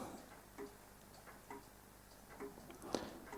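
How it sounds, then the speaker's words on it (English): A Hermle grandmother clock ticks steadily indoors, with faint, even ticks roughly every second heard close up in a quiet room and no voices. "You can hear that ticking away quite nicely."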